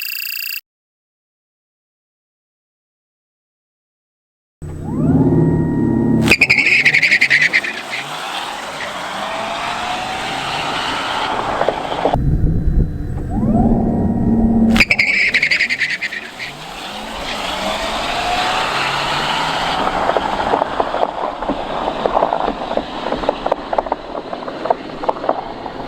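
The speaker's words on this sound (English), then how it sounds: "what do you think of the noise that the Taycan makes" Porsche Taycan Turbo S electric car launching on a quarter-mile drag run, a loud rising whine with tire and wind roar that cuts off briefly and then surges again; no talking.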